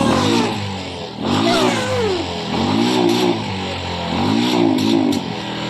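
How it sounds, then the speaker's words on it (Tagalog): A Euro 150 motorcycle that sat unused for a year starts and revs loud and close, its engine climbing and falling in several repeated throttle blips with a rough mid-pitched rasp and no talking. "ulit ang kanyang susi para mapaandar natin ang kanyang motor"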